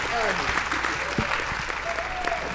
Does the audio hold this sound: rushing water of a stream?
no